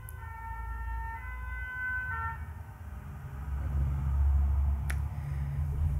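A police or fire engine siren wails in steady tones that fade away over a growing low traffic rumble, with one sharp click partway through.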